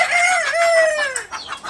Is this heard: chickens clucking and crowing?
yes